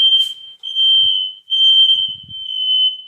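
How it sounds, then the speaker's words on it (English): A home smoke and fire alarm sounds a loud, piercing high-pitched tone, held continuously with two brief dropouts, set off by an oven; a faint low voice murmurs underneath. "it was my fire alarm"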